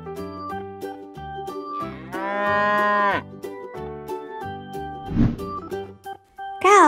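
Cows moo repeatedly, several long, loud bellowing calls one after another with brief gaps, close by and with no talking.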